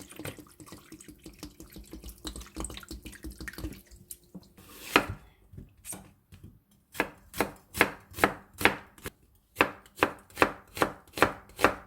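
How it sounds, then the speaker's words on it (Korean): A knife chops ingredients on a cutting board, first as faint rapid taps with a trickle of water in the background, then as sharp, evenly spaced loud chops close up in a steady rhythm. "칼을 이용해서 이렇게 썰어주세요"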